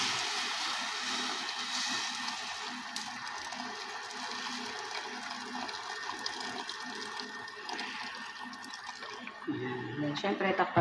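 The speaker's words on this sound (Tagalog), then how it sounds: "lagyan natin ng tubig" Water poured into a cooking pot for tinola broth, a steady splashing and trickling that runs throughout at moderate level, with clinks and a louder bump near the end.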